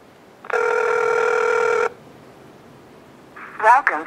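A Motorola DROID 3 Verizon phone placing a call: a sustained ringback or dial tone lasting over a second, then quiet, then a short warbling electronic burst near the end, close and clear.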